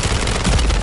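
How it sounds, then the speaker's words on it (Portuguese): Dense, rapid automatic gunfire from the video game Warzone MW3, a loud continuous burst of overlapping shots filling the whole moment without pause. "Tá um tiro."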